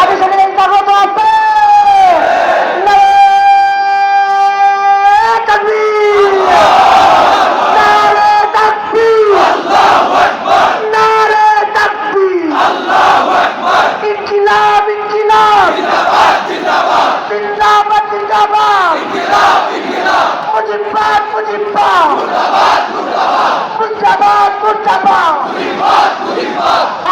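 A large protest crowd chants slogans in a loud, rhythmic call-and-response, voices rising in repeated shouted phrases with a lead voice and massed reply, sustained throughout.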